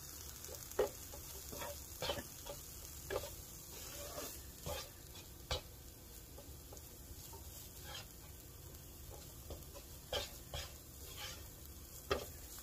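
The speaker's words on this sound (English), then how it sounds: "I add a little bit of butter and kind of let that butter cook in there" Butter sizzling in a pan with cauliflower rice, a steady soft hiss broken by regular scraping stirs every second or so, quiet and close with no voices.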